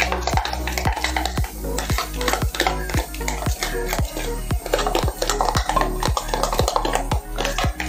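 Masala mixture for Al-Faham being stirred in a metal pan, a steady run of sharp, regular scraping knocks of the spoon against the pan over a faint sizzle, close by with no talk.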